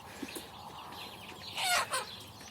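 A rooster crows briefly from a moderate distance in a chicken coop during a fight, preceded by a few soft clucks against a quiet farmyard backdrop.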